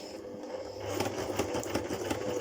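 A sewing machine stitches through paper hearts for bunting, a faint steady mechanical whir with a rapid needle rhythm that builds slightly after the start, heard up close with no talking.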